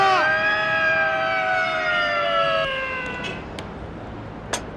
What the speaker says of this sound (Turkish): Baba sirenler çalıyor